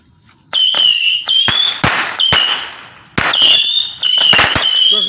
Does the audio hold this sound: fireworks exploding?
yes